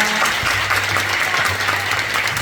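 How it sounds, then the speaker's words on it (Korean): Dense, sustained applause from a lecture-hall audience after a classical ensemble performance, many hands clapping together in an even, loud wash with a faint low hum underneath. "다시 한번 감사의 큰 박수 부탁드립니다"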